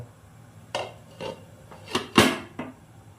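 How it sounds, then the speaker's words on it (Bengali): A metal lid clatters onto a wok (kadai) holding amra chutney, with several sharp clinks and one louder settling clang, close by and alone. "এবার দশ মিনিটের জন্য আমি ঢাকা দিয়ে দিচ্ছি কড়াইটায় সিদ্ধ হওয়ার জন্য"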